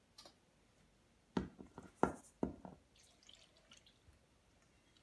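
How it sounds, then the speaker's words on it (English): Eggs and milk go into a large mixing bowl as a few soft wet plops and drips clustered together, faint and close, followed by quiet. "I think we'll put the eggs and the milk into the big bowl"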